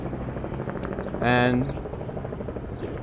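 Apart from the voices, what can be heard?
small tour helicopter flying overhead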